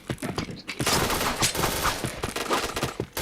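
Rapid gunfire rattles through a multiplayer shooter game in fast, overlapping bursts, loud and close, with players' voices mixed in among the shots.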